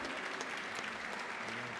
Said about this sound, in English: give Mr. Sakamoto and José Luis a big round of applause